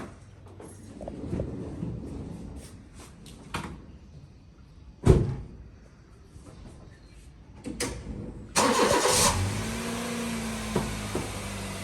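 A car backed out of a home driveway, door thuds and clunks followed by an engine starting and idling with a rushing hiss, fairly close.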